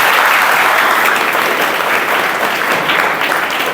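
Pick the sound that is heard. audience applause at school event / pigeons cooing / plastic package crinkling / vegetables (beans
audience applause at school event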